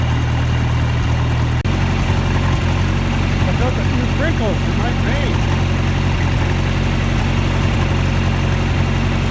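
Farm tractor idling, an engine that sometimes sputters, in a corral on a rainy day: a steady low drone runs throughout with a person talking over it.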